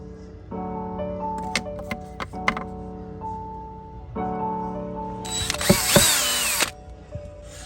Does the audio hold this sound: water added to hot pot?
no